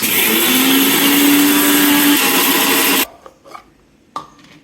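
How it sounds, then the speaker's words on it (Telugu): A mixer grinder whirs loudly as it grinds fried spices into powder, a harsh steady rasp that cuts off abruptly partway through, followed by a few faint knocks and clatters. "సో దాన్ని ఇప్పుడు మిక్సీ పట్టుకుందాము"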